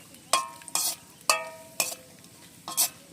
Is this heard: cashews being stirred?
yes